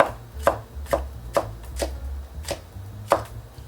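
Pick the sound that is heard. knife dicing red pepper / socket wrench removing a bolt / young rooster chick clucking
knife dicing red pepper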